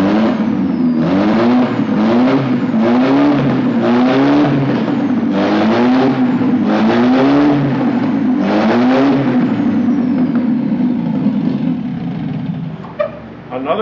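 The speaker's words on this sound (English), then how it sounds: "We were able to start the engine" An MG XPAG car engine starts up and runs on a bench, repeatedly revving and settling in rising and falling surges, loud and close, before cutting off near the end.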